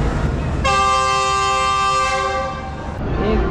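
Subak Raftar Express train departing Rawalpindi, sounding a loud, sustained multi-tone horn blast lasting about two seconds, with rumbling running noise before and after.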